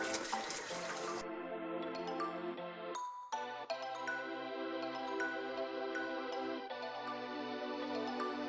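Water pours steadily into a pan, a continuous splashing stream with a faint ringing tone, interrupted briefly midway before flowing again.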